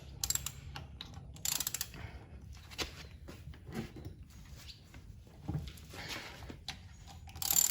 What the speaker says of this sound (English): So I'm just gonna go ahead and loosen these lug nuts up a little bit more